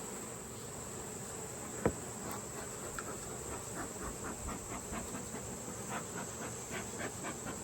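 A strong honey bee colony hums steadily from an open hive with the queen excluder just removed, a continuous buzzing drone under a bright constant hiss with faint repeated ticks and one sharp knock.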